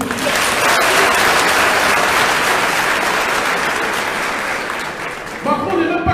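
A conference hall audience claps in a loud, sustained wave of applause, tapering slightly before a voice begins speaking near the end.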